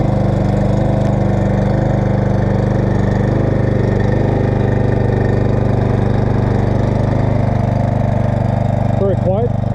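A cold Husqvarna HU775BBC lawn mower engine idles steadily with its blade disengaged, a continuous low, even drone heard up close, with a brief voice near the end.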